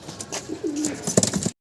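A racer pigeon gives a short close coo, one gliding low note followed by a brief burst of cooing and fluttery noise, over faint background sound.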